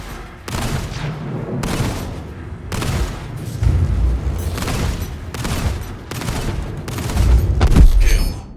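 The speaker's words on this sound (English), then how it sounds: "This is why I bring the cannons, because cannons will just shred." Laser and ballistic ship cannons fire in bursts during Star Citizen space combat, loud rapid volleys of booming shots repeating roughly every second, with heavy low rumble between bursts.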